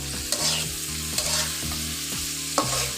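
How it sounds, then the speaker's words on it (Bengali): Dried mola fish frying with onion, green chili and garlic for a bharta, a loud close sizzle with a regular rhythmic scrape of the spatula about every half second, with no voices. "এভাবে ভেজে নিলে পেঁয়াজ, কাঁচামরিচ আর রসুনের সাথে সাথে মাছটাও একটু নরম হয়ে আসবে"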